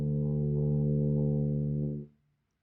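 A tuba sustains a single low D for about two seconds, steady and full, then cuts off cleanly into silence.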